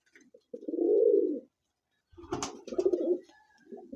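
A flying pigeon sitting on eggs coos close by in two soft, throaty bursts separated by a brief pause, with a faint flutter or rustle between them.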